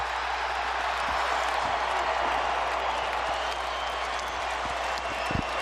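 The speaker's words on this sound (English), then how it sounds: "This entire crowd on its feet, including my partner, for the night at least" A basketball arena crowd cheering and applauding at a Lakers home game, a dense, continuous roar of clapping and voices with a few sharper thumps near the end.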